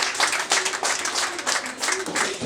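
Audience applause at a traditional Rwandan marriage ceremony, a dense, steady patter of many hands clapping at constant strength, fairly close, with faint voices mixed in.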